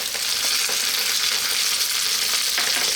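Garlic ginger paste sizzling and frying steadily in a hot pan for a potato mushroom curry, a dense, constant crackle that is close and fairly loud, with no talking.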